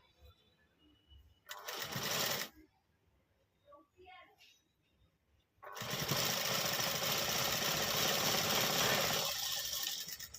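Sewing machine stitching puff sleeves onto a readymade lehenga blouse, with a short whirring burst, a pause with quiet handling clicks, then a long steady run of close, loud mechanical stitching.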